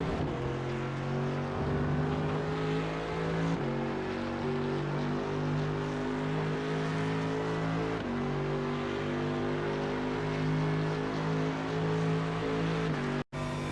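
A Mercedes AMG GT3 race car in the iRacing simulator at Interlagos accelerates hard out of a turn, its engine droning loud and steady with rising pitch sweeps through several gear changes.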